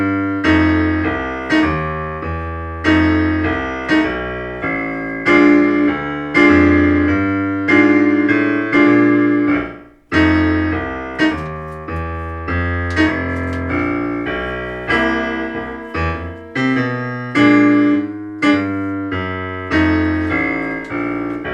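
Standard 12-bar blues progression played on a piano-like instrument, a steady sequence of rhythmic chords with a clear pulse and a brief pause midway, with no one talking.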